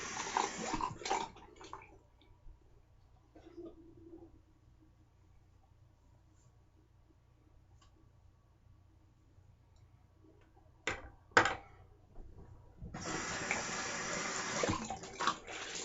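Water runs from a tap at a sink while preparing for a wet shave, in bursts at the start and middle, then a steady, fairly loud stream near the end.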